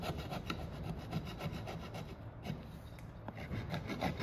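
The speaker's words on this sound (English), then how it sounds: "this is just scraping out pretty easy." Steady rhythmic scraping on a 1975 International Scout II during window and door work, a close raspy rubbing repeated in quick strokes, no voices.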